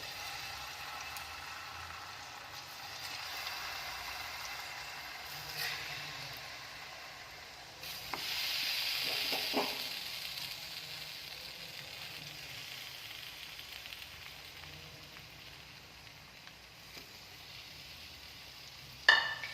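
Ripe plantain slices frying in ghee in a hot pan, a faint, steady sizzle with a few soft stirring clicks and a small clatter at the end, heard close and without talk.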